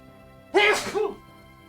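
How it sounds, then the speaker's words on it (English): One sharp, close sneeze erupts out of near silence, a quick voiced burst that fades within about half a second. "Oh, I'm gonna sneeze."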